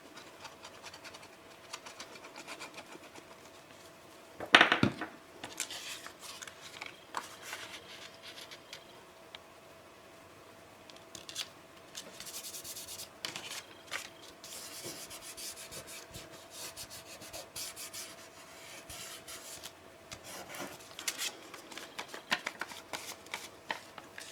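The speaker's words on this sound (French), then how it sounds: "Je plie avant de couper pour éviter que ça remonte le papier" Paper being folded and cut for a leather steampunk scrapbook album, faint close rustling, rubbing and scraping sounds with one sharper crinkle burst early on, no talk.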